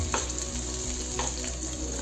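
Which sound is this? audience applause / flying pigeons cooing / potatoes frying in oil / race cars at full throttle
potatoes frying in oil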